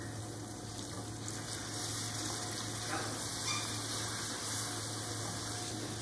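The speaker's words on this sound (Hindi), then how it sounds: "थोड़ा सा पानी डालेंगे," A little water is poured into frying mutton nihari masala, giving a steady, even gushing stream that holds constant throughout, close and moderately loud.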